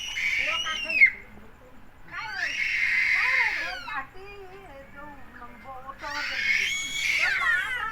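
A child screams in long, shrill, wavering bursts, three loud cries separated by brief quieter gaps, close and dominating.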